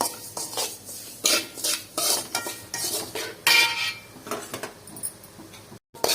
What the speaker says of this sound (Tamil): இப்போ வந்து சக்கரை பாவு வந்து ஊற்றிக்கிறோம்